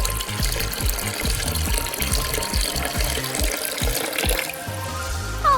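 Water rushes and splashes steadily at a waterpark, a loud continuous gushing flow with choppy bursts, and no voices are heard.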